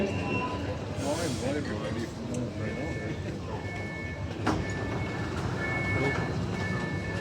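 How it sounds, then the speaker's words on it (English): A Melbourne Metro Tunnel train runs at an underground station platform, with a steady low rumble, a rising whine, and brief clunks and chimes. It is heard under a station announcement. "This is your 116 Sunbury service arriving on platform 1"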